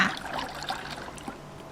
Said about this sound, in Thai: เทน้ำมันใส่ลงไปเยอะๆ